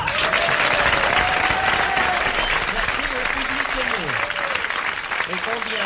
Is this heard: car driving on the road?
no